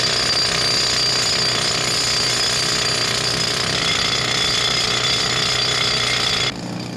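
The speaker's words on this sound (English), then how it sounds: "That was Eamon drilling the holes." A rock drill bores holes into granite at Walsh's granite quarry, a loud, continuous rapid hammering that runs nearly seven seconds at close range before dropping off abruptly at the end.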